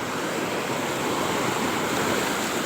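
Sea waves wash steadily against a rocky, coral-lined shore, a continuous broadband surf roar with no voices, close and fairly loud throughout.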